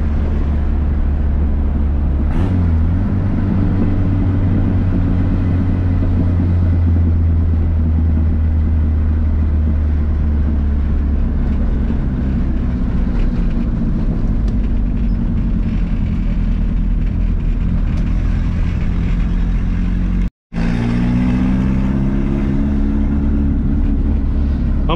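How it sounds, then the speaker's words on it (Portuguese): Carbureted Volkswagen Gol Turbo engine running while driving, a loud continuous low rumble with rising and falling pitch as the revs change through gear shifts, heard from inside the car. "carrinho gostou de andar, não fica falhando, não fica engasopando"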